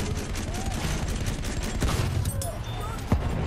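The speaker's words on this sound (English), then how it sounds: "Machine gun sighted." Battlefield 1 multiplayer gunfire rattles in a dense, busy mix, bursts blending with steady battle noise and a sharper crack near the end, while a voice talks over it.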